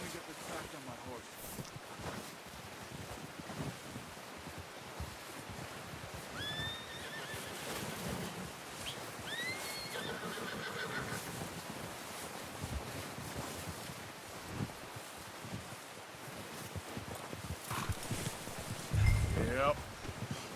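Horses in the Red Dead Redemption 2 video game give a few short neighs and whinnies over windy outdoor ambience and faint hoof movement, with low talking in the background.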